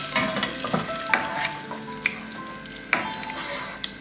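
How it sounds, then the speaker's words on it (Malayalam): Rice payasam made with unakkalari (raw rice) for Onam is stirred in a pan. A spoon scrapes and taps the metal in irregular clicks over a soft simmering sizzle, close and fairly quiet, with no voices. "ഇളക്കി കൊടുക്കാം"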